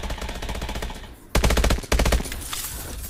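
Rapid automatic gunfire from the video game Call of Duty: Advanced Warfare, a steady stream of loud, closely spaced shots with a sharp burst partway through, continuing without speech.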